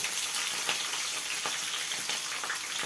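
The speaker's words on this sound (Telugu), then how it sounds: "కొంచెం ఆయిల్లో వేగిన తర్వాత మిర్చి వేగాయి ఫ్రెండ్స్" Green chillies sizzle and crackle steadily in hot oil for a Telangana-style beans and tomato curry, a dense continuous frying hiss close up with a few faint scrapes and no talking.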